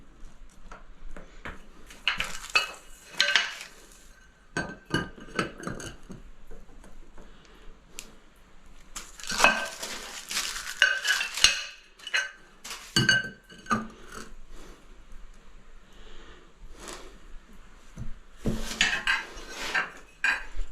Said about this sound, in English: I'll scrape away the glue